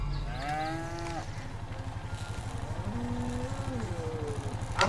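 Cattle mooing in the Lego Jurassic World video game: two drawn-out low moos, one at the start and another midway, over a steady rhythmic mechanical pulsing, with no speech.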